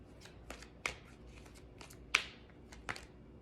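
Tarot cards being shuffled by hand in a quiet room: a few sharp, crisp riffling bursts spaced irregularly over soft background rustle, close and moderately loud.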